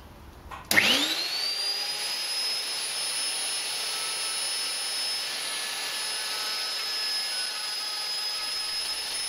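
A router on a routing fixture with two fences, used to trim wood pieces to size while preparing a cider scratter, spins up sharply and then runs at a steady, loud whine.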